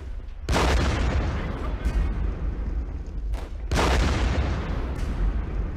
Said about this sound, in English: Is that artillery?